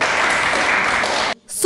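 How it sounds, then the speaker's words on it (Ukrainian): Deputies at a city council session break into dense, loud applause that runs for over a second and then stops abruptly. "Цю подію депутати привітали оплесками."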